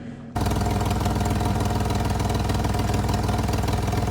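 An engine with a cracked exhaust manifold idles loudly with a harsh, rapid ticking and puffing exhaust leak, steady and close throughout.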